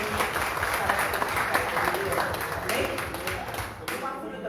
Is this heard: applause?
yes